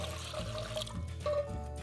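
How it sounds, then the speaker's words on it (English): Water pours into a saucepan on the stovetop as the first step of choux pastry dough, a steady close splashing pour lasting just under two seconds with no talking. "We add 2½ cups of water,"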